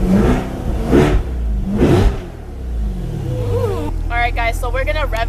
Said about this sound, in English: All right, guys, so we're gonna rev it.